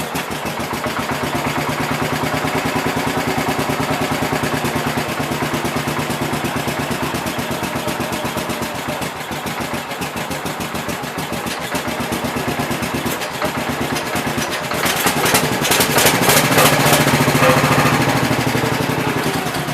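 A 1967 engine on a 424 project runs with a loud, rapid, rattling mechanical idle that holds steady for a long stretch, then briefly surges louder and harsher near the end.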